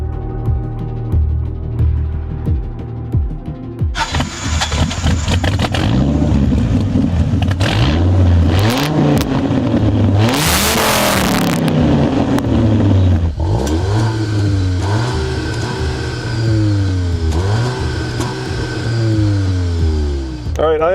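VW Golf R in race mode with traction control off, engine revving repeatedly in rising and falling sweeps before a hard launch, loud and close, with people talking over it.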